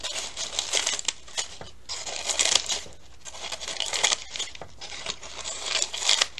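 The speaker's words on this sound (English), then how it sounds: "Take your fringe scissors and cut out to the line." Fringe scissors cut through paper for an Easter bird's nest craft, close crisp snips and crinkling rustles in irregular bursts with brief pauses.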